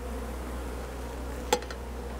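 Honey bees hum around a package hive as it is being installed, a steady, faint drone underneath one sharp click from handling the box.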